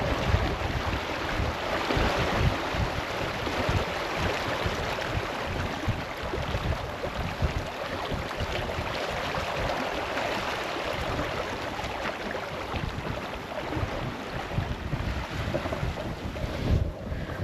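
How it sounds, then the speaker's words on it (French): Steady wind buffets the microphone aboard a sailing boat, with a continuous rushing roar and occasional stronger gusts, water swishing beneath. "on a des petites rafales de vent de temps en temps"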